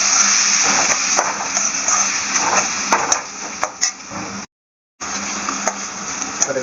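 Chopped tomato and onion sautéing in a pan for a banana flower kootu, giving a steady close sizzle and crackle with occasional utensil clinks against the pan, briefly dropping out before resuming.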